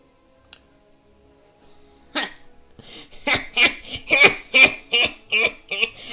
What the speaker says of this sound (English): he starts to, cough